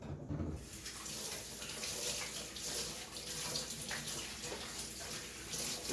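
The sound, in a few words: tap water running while washing hands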